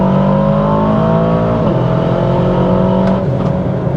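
An Aston Martin DBX707 super SUV accelerates hard, its engine droning loud and steady with rising pitch and a brief dip at a gear change, heard close and continuous without speech.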